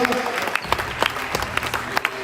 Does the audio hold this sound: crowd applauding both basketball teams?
yes